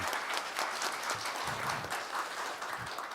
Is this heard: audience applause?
yes